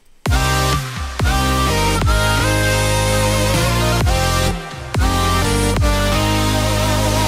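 A loud, dense house track plays with heavy bass, punchy beats and a synthetic talkbox-style vocal line, pausing briefly twice before the full mix returns, with no speech over it.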